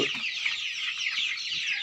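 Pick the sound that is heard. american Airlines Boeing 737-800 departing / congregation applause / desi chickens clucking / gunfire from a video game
desi chickens clucking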